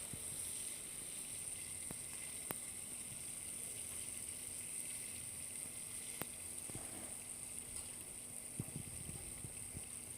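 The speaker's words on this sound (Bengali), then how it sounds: "এবার সেকেন্ড ব্যাচের মাছগুলো কিন্তু আমি ভেজে নিচ্ছি।" Small amudi fish, a second batch, frying in hot oil: a steady, fairly quiet sizzle that runs without a break, with a few faint clicks and knocks from the pan and no talk.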